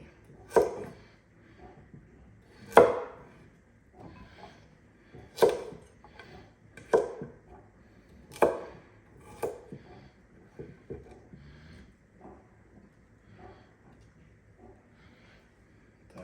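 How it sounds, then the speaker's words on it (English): A knife chops vegetables on a cutting board in irregular single strokes, fairly close and fading toward the end, with no talking. "Feel free to chop these vegetables however you enjoy."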